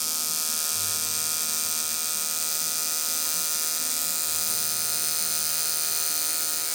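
Electric hair clipper with its cutter blade set overhanging the comb blade, buzzing steadily and close up while cutting hair, a constant motor drone with no talk over it.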